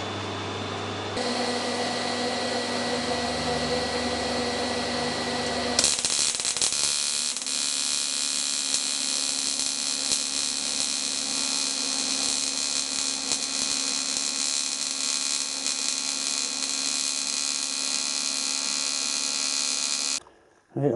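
An aluminium tripod leg is welded under a steady, loud electric buzz with a whining tone. The buzz runs unbroken for about fifteen seconds, then cuts off abruptly.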